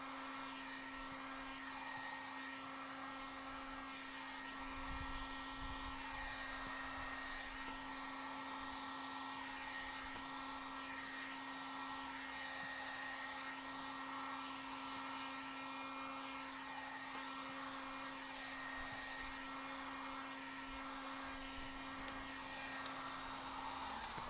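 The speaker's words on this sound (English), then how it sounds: "And when I heat shrink them, they're a lot less likely to leave a crease because they're so small." A heat gun blows continuously while heat-shrinking window tint film, a steady whirring airflow hum with a constant tone that runs unbroken and close throughout, no one speaking.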